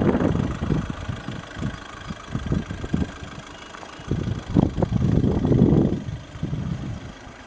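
A 1.6 TDI turbo diesel in an Audi A1 idles steadily close by, a slightly noisy low diesel rumble with uneven knocking pulses that swell and fade, heard alone without talk.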